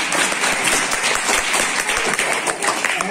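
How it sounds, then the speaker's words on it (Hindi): A crowd of about a hundred people, mostly children, claps loudly inside a Gopal temple at a New Year gathering, a dense steady round of applause filling a few seconds. "मतलब आप अपने लिए ताली बजा सकते हैं।"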